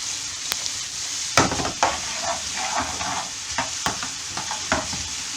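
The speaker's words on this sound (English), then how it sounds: "Put it into some fairly hot oil. And what we're going to do is we're just going to soften these onions." Onions sizzling and being stirred in fairly hot oil, a soft continuous fry broken by several sharp scraping stir strokes at irregular intervals.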